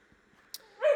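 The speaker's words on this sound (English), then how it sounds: "I'm sorry about the dog." A pet dog lets out a single short yip or bark at the very end, close and fairly loud, after near silence.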